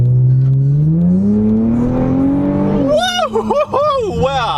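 A Nissan Stagea M35 with all-wheel drive accelerates hard, its engine note climbing steadily in pitch as it revs up close and loud, then excited voices break in over the engine sound.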